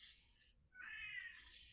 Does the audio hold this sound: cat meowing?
yes